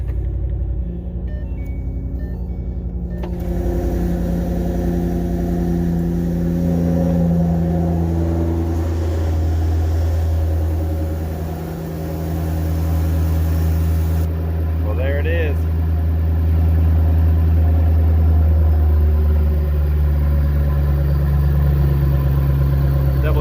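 A 2010 Shelby GT500 fitted with a Trinity 2.3 supercharger cranks and catches, then settles into a loud, steady, deep idle rumble that fills the whole stretch up close.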